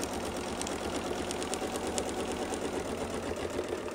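A sewing machine stitches steadily while quilting a Baptist fan pattern with a Westalee Design mini template, a close, continuous rapid needle chatter with no pauses.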